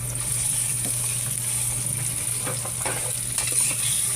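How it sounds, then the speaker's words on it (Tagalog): Ground meat sautéing in a pan after garlic and onion for spaghetti sauce, giving a loud, steady sizzle of spattering oil with occasional stirring scrapes throughout. "Gisa natin maigi yung giniling"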